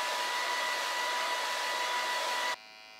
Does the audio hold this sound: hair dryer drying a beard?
yes